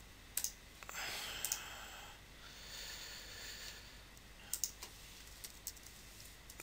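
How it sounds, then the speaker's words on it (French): A computer mouse clicks on a Play button: a few faint, sharp clicks set apart by quiet gaps. "Je clique sur Play."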